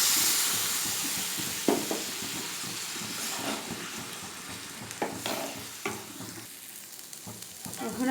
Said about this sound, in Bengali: আমার সজিনাটা হালকা একটু ভেজে নিচ্ছি। এখন আমি পরিমাণ মতো জল দিয়ে দিচ্ছি।